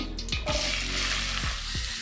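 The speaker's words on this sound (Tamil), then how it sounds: "நல்லா பொன்னிறமாக வதக்கிக்கோங்க" Chopped onions sautéing in about three teaspoons of hot oil until golden, for a sundal cutlet recipe: a steady, close, bright frying sizzle with a few low knocks and scrapes from stirring.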